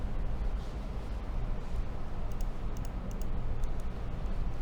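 A command typed on a computer keyboard, a short burst of light, faint key clicks over a steady background hiss.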